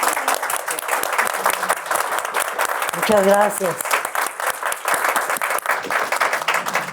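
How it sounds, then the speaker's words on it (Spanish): Audience applause at a tribute event, a dense steady clapping wash running the whole stretch, with a voice speaking over it partway through. "démosle un aplauso muy cariñoso a Mauro."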